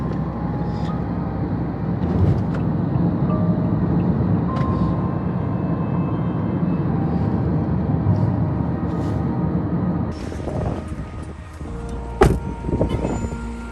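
A Didi ride-hailing car cruising in China, with a steady low road and engine rumble throughout and a few brief clicks and knocks near the end, no voices.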